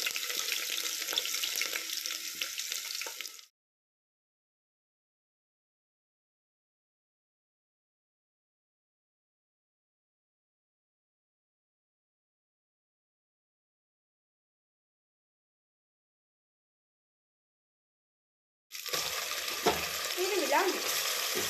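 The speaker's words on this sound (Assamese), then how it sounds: "অকণমান চেনি তেলখিনিতে চেনিখিনি ৰং হ'বলৈ দিম" Sugar sizzles in hot oil in a pan for beef korma, a bright steady frying hiss for a few seconds, then a long silence, then the sizzle returns with stirring scrapes.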